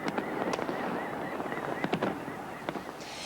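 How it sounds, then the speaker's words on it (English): Millennium fireworks burst over the Kremlin in Moscow on New Year's Eve, with repeated sharp cracks and pops at irregular intervals over a steady roar of distant crowd noise. "They are celebrating that millennium in a Moscow made up in lights, fireworks, and snowflakes."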